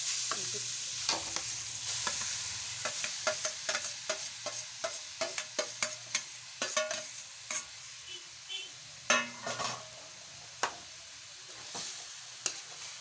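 Grated pumpkin fries in ghee with a soft, steady sizzle, punctuated by frequent scraping clicks of a spoon stirring the pan.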